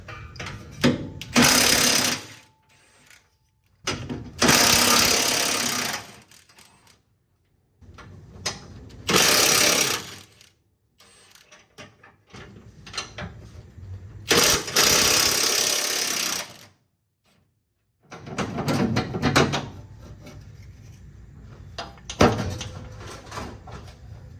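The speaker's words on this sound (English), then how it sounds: "we're gonna undo our cross member now. The 18 millimeter head, 21 millimeter nut." Cross member bolts with 18 mm heads coming off a 6.7 Cummins truck: five loud bursts of rattling power-tool hammering, each a second or two long, separated by silent pauses.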